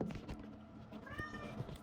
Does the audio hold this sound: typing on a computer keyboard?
no